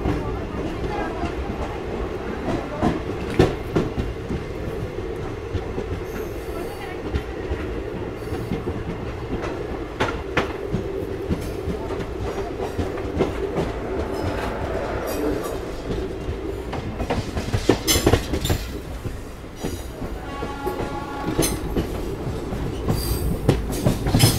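Secunderabad-Rajkot SF Express rolling on the rails, a continuous rumble with clickety-clack wheel beats and sharp squeals, loud and close, with someone speaking over it.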